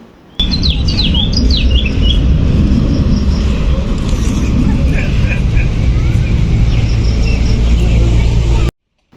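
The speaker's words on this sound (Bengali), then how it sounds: "এত বেশি গাছপালা এই জন্যে কিন্তু পাখিদের এত সুন্দর আওয়াজ শব্দ শোনা যাচ্ছে" Birds chirp and sing among the trees of a park in Putrajaya, Malaysia. Their short, bright calls sound fairly distant above a steady, loud low rumble, like nearby traffic or an aircraft, that continues for the whole stretch.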